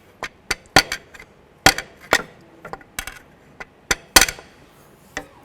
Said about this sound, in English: You can use a pry bar and get that in there and just kind of tap this.